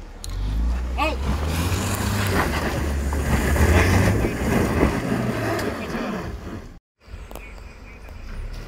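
A Land Rover Defender or Mahindra Thar with slightly deflated tyres crawls over rocks, its engine rumbling loud and close while people call out guidance over it. Wind buffets the microphone, and a brief dropout cuts the sound near the end.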